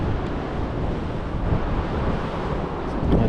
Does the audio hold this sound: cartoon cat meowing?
no